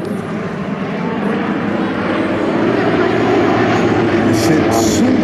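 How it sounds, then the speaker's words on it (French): Russian Yakovlev Yak-50 and Yak-52 sport aircraft at the Air Legend 2022 airshow: a continuous loud radial-engine and propeller drone roaring steadily overhead, with a voice talking faintly underneath. "le ciel avec des avions russes, des Yak 50 et des Yak"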